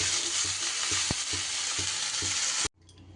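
Broccoli sizzles steadily while frying in a pan, with a spoon scraping and stirring it in regular strokes, before the frying noise cuts off abruptly near the end.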